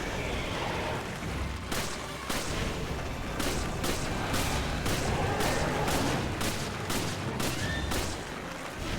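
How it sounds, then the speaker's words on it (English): Distant gunfire cracks out in a rapid string of sharp shots over a dense, rumbling background, some bursts close together, with no clear speech. "He's shooting."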